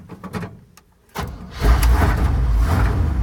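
A car engine cold-starts in winter after the fuel pump primes: brief clicks and a whirring crank, then the engine catches about a second in and settles into a loud, steady, close idle rumble.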